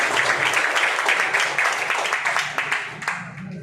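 Sustained applause from a crowd, dense clapping filling the whole stretch at steady loudness, fading slightly toward the end.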